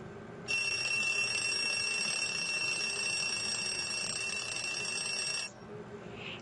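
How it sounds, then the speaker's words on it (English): A digital alarm clock beeps in a rapid, continuous high-pitched pattern for about five seconds, then stops abruptly over faint room noise. "heard that the alarm went off right at the time that we specified"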